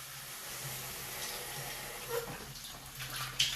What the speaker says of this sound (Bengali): এই ধুয়ে জল দিলাম।